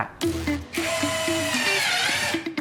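A 230 Nm cordless impact screwdriver whirs close by while assembling a wardrobe, with repeated rapid hammering bursts, its motor pitch steady and loud through the short run.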